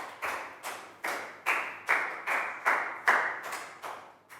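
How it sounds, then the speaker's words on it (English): Classroom applause during a Year 3 geometry math lesson, about ten sharp, evenly spaced claps in a steady rhythm, close and clear with no talking. "Big round of applause for Pangpon."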